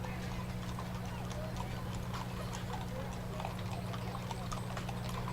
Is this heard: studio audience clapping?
no